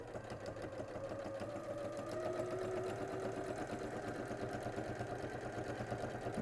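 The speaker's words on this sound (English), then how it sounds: "You just sew it into place all the way down" A sewing machine runs steadily down a quarter-inch seam, a close, continuous rapid whirring with even stitch rhythm throughout, no talking.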